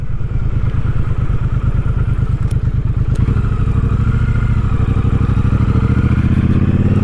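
A 2022 Triumph Speedmaster cruiser motorcycle's engine thrums while riding: a loud, continuous, close pulsing rumble with a steady rhythmic beat that deepens slightly partway through.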